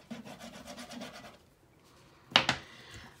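Burnishing tool rubbed firmly over the cover of a handmade baby album, a quick series of back-and-forth rubbing strokes followed by a pause and two sharp, louder scrapes, close and quiet.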